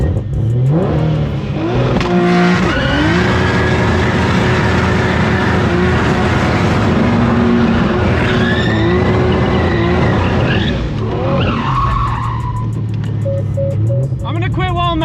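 A 1200 WHP Barra-engined Mustang doing a burnout: an engine roaring and revving hard with loud screeching tire skid, sustained for many seconds before easing off, with people talking and shouting nearby.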